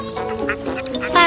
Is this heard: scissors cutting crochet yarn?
no